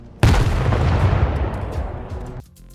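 A grenade detonates in STALKER 2 with a sudden loud, close boom, followed by a heavy rumbling roar that decays over about two seconds before cutting off.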